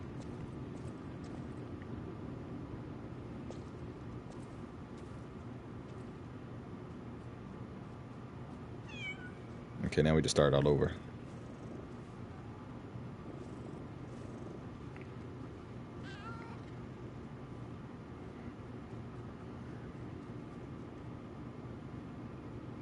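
A cat in the video game Lies of P lets out a single loud meow midway, rising sharply over a quiet ambient game background; a voice speaks briefly elsewhere.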